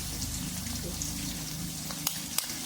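Finely chopped ginger sautés in oil for a beef dish, a soft, even sizzle with a low hum beneath and a few sharp stirring clicks toward the end.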